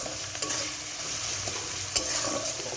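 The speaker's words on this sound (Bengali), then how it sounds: "এটা দিয়েও একটু নাড়াচাড়া করে নেব" Curry with salt being stirred in a pot: a close, steady sizzle under repeated scraping strokes of a spoon, with a sharper knock near the two-second mark and no voices.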